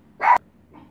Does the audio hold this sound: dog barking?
yes